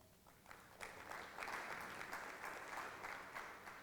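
A large audience applauds steadily to welcome guests on stage at a meet-and-greet for a Karnataka industries minister in Dallas, the dense clapping swelling after a soft start and holding at an even, moderate level throughout.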